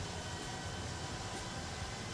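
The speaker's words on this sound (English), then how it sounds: "the tail jet is spinning up right now" A cargo MD-11F in a flight simulator, its tail-mounted jet engine spooling up as a dense, steady roar with a low rumble and broad hiss, holding constant without any talk.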